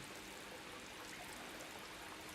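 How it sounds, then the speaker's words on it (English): Steady rushing water from a waterfall in a video game, a soft continuous hiss and trickle heard alone at low volume. "I can hear the waterfall."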